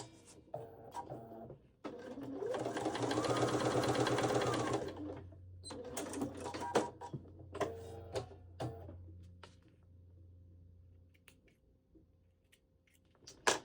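A sewing machine bastes the raw edge of a waist pack closed in one sustained close run, followed by a few shorter bursts of stitching and small ticking handling noises.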